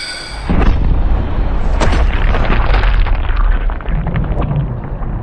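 A high-speed gun fires a lead slug at a dummy head, giving a loud boom that sets off a long, dense roar of rumbling, crackling noise lasting several seconds, heard alone without speech.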